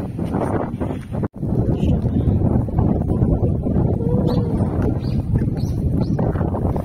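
Strong wind gusts roar steadily outdoors near blooming sakura trees in Japan, a loud, continuous broadband rush with one brief dropout.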